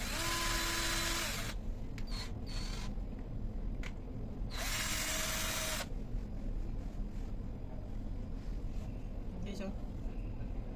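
A new electric drill, just unboxed, runs in short bursts: a shrill whine for about a second, a couple of brief blips, then another longer burst, with quieter clicks and handling noises in between, close up.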